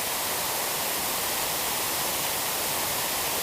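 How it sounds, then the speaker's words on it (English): Heated waterfall in a small Midtown East park in winter, a dense, even rush of falling water filling the clip at close range, with no voices. "Because it's winter time and the waterfall's still running."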